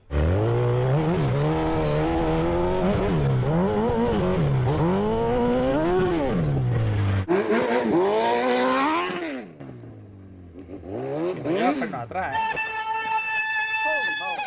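A Honda CRF 450 dirt bike fitted with a Hayabusa engine revs hard on a hill climb: loud, close, repeatedly rising and falling engine whine, later settling into a high steady drone, with voices at times.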